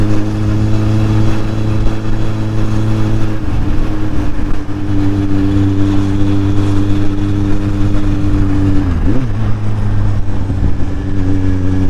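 Steady wind rush blends with a motorcycle engine's constant drone on a hot ride through south-east France, loud and continuous with a brief dip in pitch near the end; no one talks.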